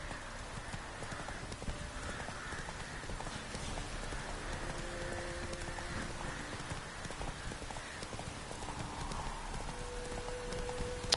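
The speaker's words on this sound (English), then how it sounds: "Gyere, ló! Lovagoljunk egyet." Roach, the horse in The Witcher 3, is ridden over ground, and her hooves clop in a steady trotting rhythm. A soft wash like rain sits behind the hooves and a faint musical tone is also present.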